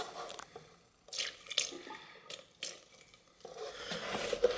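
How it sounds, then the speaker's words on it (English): Vinegar poured into a bicycle frame to free a stuck handlebar quill stem, liquid splashing and trickling in a few separate bursts close by with short pauses between them. "I'm gonna put some more vinegar back in there."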